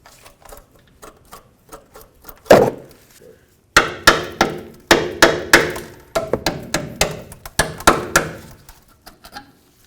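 Sharp metallic clicks and taps as a tool pries a brake hose clip off a 1999-2007 Ford F250, starting sparse and faint, then a rapid run of louder close knocks.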